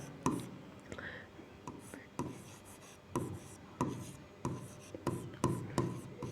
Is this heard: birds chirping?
no